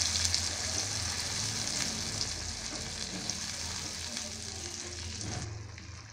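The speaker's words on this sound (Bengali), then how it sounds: "এবার মশলা পেস্টটাকে নাড়তে নাড়তে আমি ভাজতে থাকি।" A spice paste for bata fish jhal fries and sizzles in a pan while being stirred, giving a constant close hiss with faint scraping throughout.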